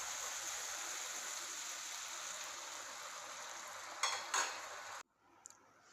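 Water poured into hot oil while cooking pabda fish curry with eggplant gives a strong, steady hiss and sizzle. A couple of brief clatters come near the end, then the sound cuts off to near quiet.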